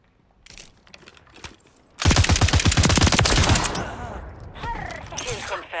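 A long burst of rapid automatic gunfire erupts in Call of Duty: Modern Warfare III multiplayer on the Farm 18 map, loud and dense for about two seconds. Quieter game sounds and a voice come before and after.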